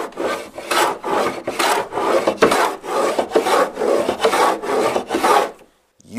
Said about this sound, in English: My first thought was, well, a bench plane, right? All I'm trying to do is take a skim a layer off the top